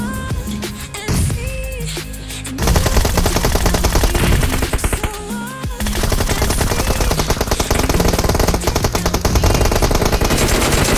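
Rapid automatic gunfire in an online multiplayer shooter game, loud sustained bursts of machine-gun fire with short pauses between volleys.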